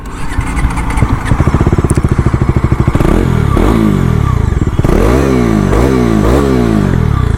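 A 2025 Bajaj Dominar 400 motorcycle engine idles with a loud, close thumping beat, then is revved hard several times, each rev rising and falling back.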